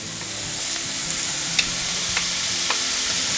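Peppers and mixed vegetables sautéing in a pan, a steady close sizzle with a few faint stirring scrapes and no talk.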